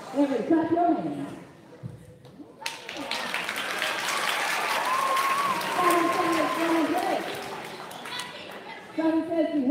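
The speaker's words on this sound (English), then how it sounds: "Everybody clap your hands." A crowd at a school pep rally claps hands together in a sustained burst of applause, with talk and a voice over a loudspeaker before and after it.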